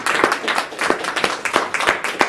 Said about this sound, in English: So everyone give a round of applause.